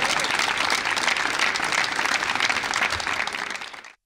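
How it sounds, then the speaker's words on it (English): Steady applause from a studio audience at a televised spelling competition in Abuja, a dense, even wash of clapping that holds at full strength and then cuts off abruptly near the end. "A round of applause for him."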